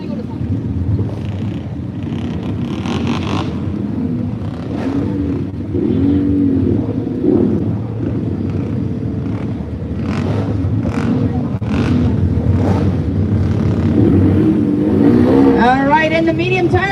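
An ATV engine churns and revs steadily through mud in a big tire pit at an off-road event, a loud continuous drone with rising surges near the end, partly covered by a commentator's voice.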